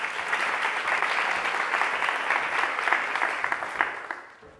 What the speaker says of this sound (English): a big round of applause for our 2 volunteers